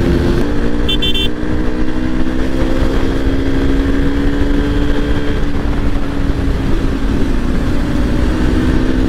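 A Yamaha R3 motorcycle rides past at a college social event, its loud engine tone rising and falling steadily throughout, close by and dominant with crowd noise underneath.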